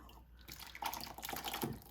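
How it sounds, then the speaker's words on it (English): Hot soup poured from a pot into a bowl gives a close, continuous liquid splash and trickle with dripping detail over low background hum, with no voices. "the soup is nice and hot here, so I'm gonna pour it into a bowl"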